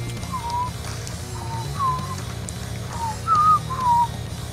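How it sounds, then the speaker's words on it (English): A person whistles short, sliding notes, several brief phrases with pauses between them, over a low background hum; no talking. "Who's whistling? Me."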